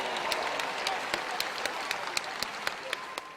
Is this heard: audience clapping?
yes